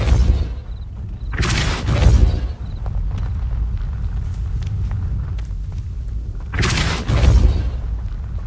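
Depulso spell in Hogwarts Legacy, two heavy booming blasts a few seconds apart with deep rumbling low-end surges over continuous game ambience, loud and close, with no talk.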